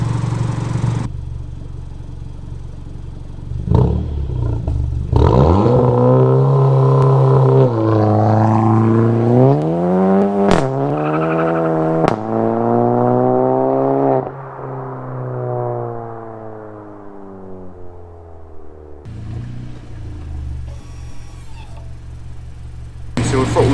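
A VW Golf GTI with an APR map revs hard under modulated throttle, its engine note climbing and falling in repeated sweeps, loud and close, before dropping back to a steady idle.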